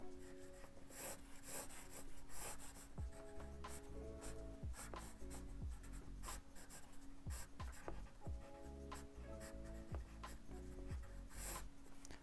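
A pencil sketches simple geometric shapes on paper, making soft, close scratching strokes in quick irregular bursts, quiet and with no voices.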